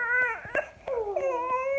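A puppy whimpers close by in high, wavering whines that bend in pitch, with short yips between them and no talking.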